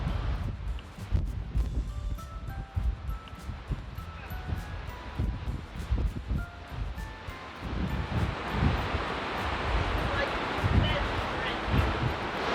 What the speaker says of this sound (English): There is so much wind!